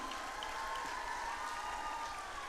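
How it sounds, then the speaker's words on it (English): Applause from an audience of FMA sisters from across India's provinces at a centenary celebration, a steady dense wash of clapping held at an even level for the whole stretch. "Let us appreciate them with a big clap."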